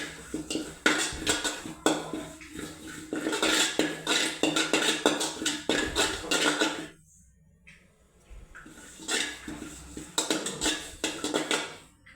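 Curry leaves dry-roasting in a pan for idli podi, with repeated loud scraping and clattering of a spatula against the metal, broken by a quiet pause before the stirring resumes.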